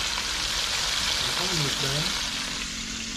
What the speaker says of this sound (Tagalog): Tapos nagpipreto ulit ang luya